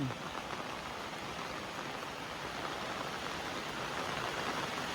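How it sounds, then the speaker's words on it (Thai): Steady rain falls in a broad, even hiss with a constant texture, fairly faint and continuous throughout, with no clear voices. "ตากฝนนะ"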